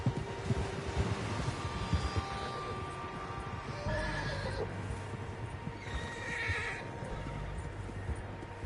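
Horse whinnies and neighs from a herd in the video game Red Dead Redemption 2 rise over a dense, busy background rumble, with a couple of high calls standing out partway through.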